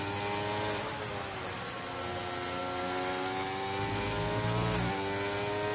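Race car engines at Monza in a sim racing game drone with a steady high whine, rising and shifting pitch as cars accelerate and brake past, heard alone without talk.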